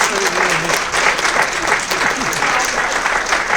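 A debate audience claps steadily for a speaker, a thick, even wash of applause with a few voices barely audible underneath.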